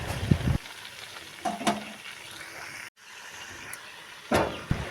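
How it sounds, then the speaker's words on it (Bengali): Chopped jute greens stirred and frying in a pan after seeds and onion, giving a steady sizzle with scraping stir bursts near the start and end and a brief silent gap midway. "শাকগুলো দিয়ে ভালো করে নেড়ে চেড়ে দেব।"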